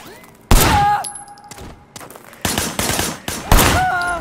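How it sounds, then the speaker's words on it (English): Gunfire in the Sleeping Dogs video game: three sharp loud bursts of shots spaced about a second apart, each followed by ringing debris and echo tails, with brief quiet gaps between. "Shooting at the guys over there."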